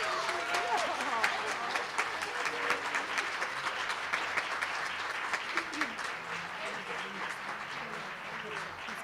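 Audience applause at an awards ceremony honoring women, steady dense clapping filling the hall for several seconds, with faint voices and cheers mixed underneath.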